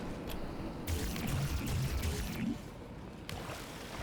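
Water pours and splashes in the video game Portal 2, a steady close gush that runs for about a second and a half, then thins to a faint trickle.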